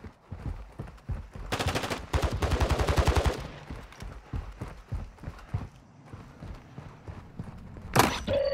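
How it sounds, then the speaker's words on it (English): Enemy gunfire in Call of Duty Modern Warfare 2 DMZ at Al Mazrah, a rapid automatic burst of evenly spaced shots, then scattered isolated cracks and one sharp shot near the end, with faint game voices. "Taking enemy fire."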